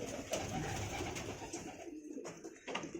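Pet pigeons coo nearby in soft, throaty repeated calls, several overlapping murmurs close to the listener with no speech.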